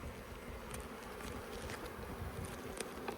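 Honey bees buzzing thickly around an open hive during a pine honey harvest, a constant close swarm drone with no pauses and no talking.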